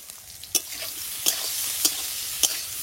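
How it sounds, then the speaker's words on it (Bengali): Bengali five-spice panch phoron crackling in hot oil while being cooked for a fish dish, with a steady close sizzle broken by four sharp scrapes of a stirring spoon at even intervals. "তেলে দেবো একটু 5 ফোড়ন দেবো"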